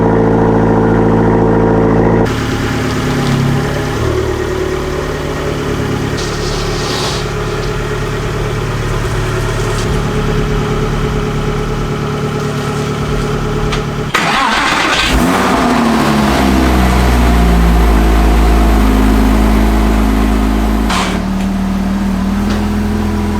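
An Abarth car engine cranks and fires, then idles with a steady mid-pitched drone, revs and rumbles as it pulls away nearby, and the loud engine note rises and falls through the drive out.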